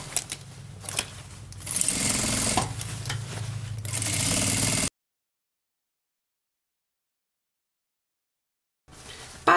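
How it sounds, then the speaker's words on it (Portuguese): Sewing machine with a presser foot stitching all the way around a bag to close it, loud rapid whirring bursts over about five seconds, then a long silence before the motor briefly starts again. "agora eu entro aqui na máquina, ó, e vou fazer uma costura com um pé de máquina em toda a volta aqui pra fechar a bolsa"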